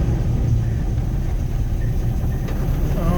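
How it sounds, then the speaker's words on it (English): A 1972 Ford Bronco engine idles at low rpm after a cold start, a loud, steady low rumble close by with no talking. "Idling at probably about 600 or 700 Rs."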